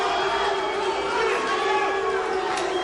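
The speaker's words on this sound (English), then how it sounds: "And the fans booing a little" Fans at a 1992 pro kickboxing fight in Hollywood, California boo with a steady low crowd roar, while a commentator talks over it.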